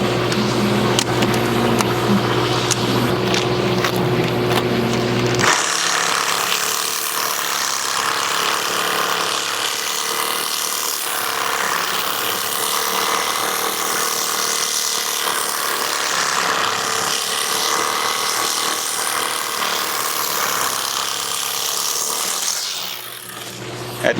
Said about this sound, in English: Had to cut a carriage bolt.